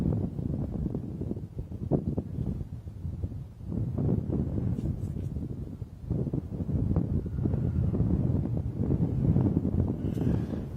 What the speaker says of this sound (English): especially with this wind. I'm sure you can hear it on the top mic